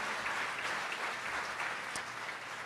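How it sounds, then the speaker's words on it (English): Audience applause for Dr. David Kilnick at the grand opening of an LGBT community center in Hauppauge, a steady wash of many hands clapping that carries evenly through the whole stretch at moderate volume with no talking. "Give him a round of applause for getting that doctorate, too, along the way"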